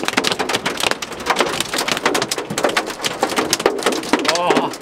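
Pea- to grape-sized hail pelts hard and steadily during a Connecticut thunderstorm, making a dense, continuous rattling of impacts close by. Voices are heard among the hail.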